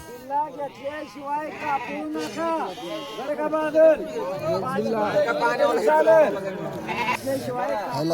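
A goat at the Bhade Biroba village fair, about to be slaughtered, bleats again and again in loud, wavering cries close by, mixed with people talking nearby.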